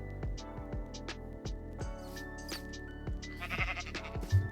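Repeated Minecraft sheep bleats, a few seconds apart, loud and close, with soft game background tones and no talking.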